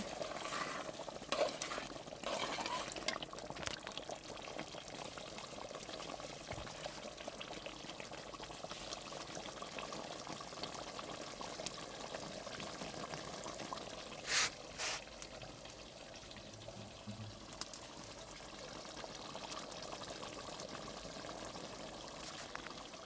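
Beef curry with jackfruit is stirred in a pot, making a continuous soft sizzle and wet scraping with a few louder knocks of the spoon against the pot.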